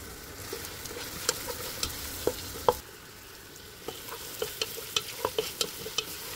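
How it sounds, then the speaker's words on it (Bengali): Carrots frying with onion and spices in a pan for chicken mandi biryani, a soft low sizzle with a run of close, light clicks and scrapes from a stirring spoon. "পেঁয়াজের সাথে মশলার সাথে গাজরটাকে একটু ভালো করে নেড়ে চেড়ে সামান্য 2-3 মিনিট ভেজে নিব"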